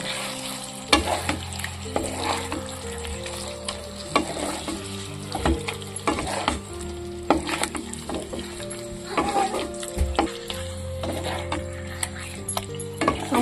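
Boiled flour dough pieces being stirred with sugar in a sizzling pan, with steady frying hiss and repeated scraping clinks of the spoon against the pan, no talking.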